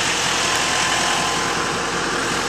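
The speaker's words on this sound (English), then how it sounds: "the truck sounds great, and it runs very smooth" A 2012 GMC Sierra 2500 crew cab with the 6.6L LML diesel runs at a steady idle, a constant close broadband rumble with no change in pace and no voices.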